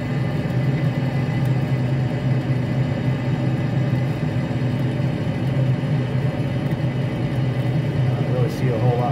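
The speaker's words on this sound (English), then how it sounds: "My auger turning? Yeah, my auger is turning." A Traeger pellet grill's auger motor runs with a steady low hum and whir, continuous and close, with faint mechanical rumble throughout.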